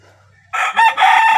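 A rooster lets out a loud, close crow after a quiet start: a short first burst, a brief dip, then a long sustained call that carries to the end.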